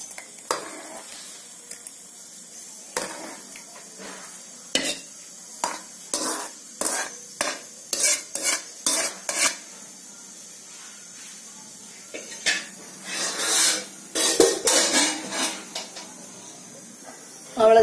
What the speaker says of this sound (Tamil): இப்ப நம்ம ஒரு பவுலுக்கு மாத்திக்கலாம்